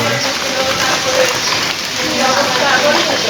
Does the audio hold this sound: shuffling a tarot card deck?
no